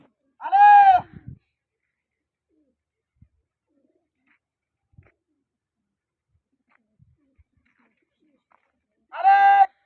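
Two short bursts of pigeon cooing, each a rounded, layered call, one at the start and one at the end, with near silence between them.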